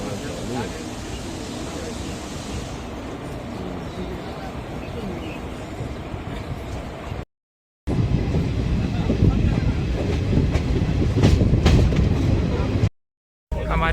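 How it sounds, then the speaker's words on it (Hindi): Kosi Superfast Express train pulling out of Mori Junction station, a steady loud rumble of the moving train with wind buffeting, continuous with two brief dropouts, talk over it. "हमारी ट्रेन मोरी जंक्शन से खुल चुकी है।"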